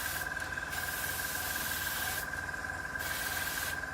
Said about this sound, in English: I've been spraying this for a few minutes now